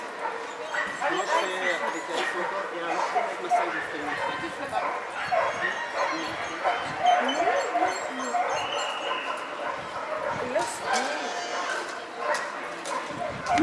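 Maasai, a utility dog, yips and whimpers excitedly during bite work, with short, repeated high cries heard nearby under someone speaking continuously.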